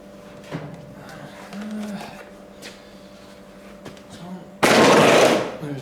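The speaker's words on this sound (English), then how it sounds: "welding time" A welder arcs on a car bodywork panel, a sudden loud, harsh crackling buzz that starts near the end and holds steady for about a second, after quieter workshop clatter and a faint hum.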